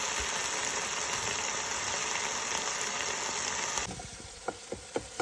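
Oil sizzling steadily in a pan with cumin and potatoes, then quieter with a few sharp pops and crackles toward the end, no voices.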